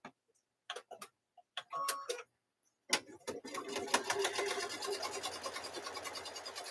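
Home sewing machine stitching across quilt squares during quilt retreat preparation, a steady close rapid ticking run starting after a few short bursts of handling noise and lasting several seconds.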